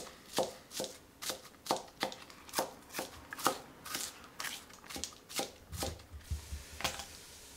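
A knife chops vegetables on a cutting board for marinara in a steady run of about a dozen crisp, evenly spaced thwacks, close and fairly quiet, with no talking.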